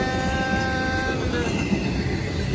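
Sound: long freight train passing, end of train

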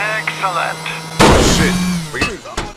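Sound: gunfire from cops in video game GTA Ballad of Gay Tony

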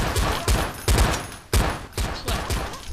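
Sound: gunfire in the video game Seal Hunter

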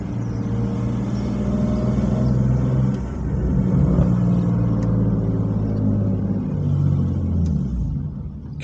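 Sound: BMW E46 full stainless steel exhaust popping and rumbling

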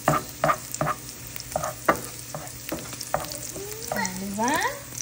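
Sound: bacon frying in a pan

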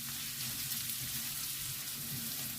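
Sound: frying onion with carrots

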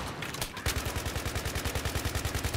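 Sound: gunfire in Battlefield 3 video game

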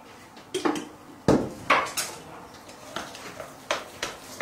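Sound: stirring seasoned cabbage filling for dumplings

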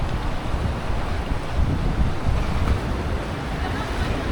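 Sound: strong ocean waves on a beach

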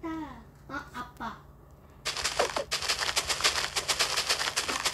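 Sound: TNT exploding in Minecraft video game

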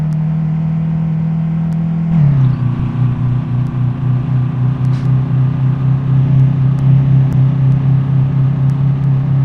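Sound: Tofaş Şahin car engine in Euro Truck Simulator 2 video game

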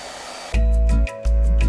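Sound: hairdryer drying water in a printer reservoir

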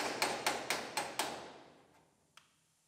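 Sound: hammering to knock a drilled truck roof panel loose

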